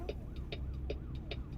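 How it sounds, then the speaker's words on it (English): A faint siren wails in the distance, its tone sweeping up and down, with a regular ticking pulse and low road rumble underneath. "I could have sworn I just heard a siren."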